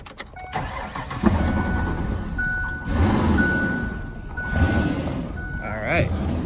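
A Mazda B4000 / Ford Ranger pickup with an OHV engine, fresh from valve cover and intake gasket replacement, cranks and runs roughly in bursts, with a steady chime-like warning tone over the engine throughout.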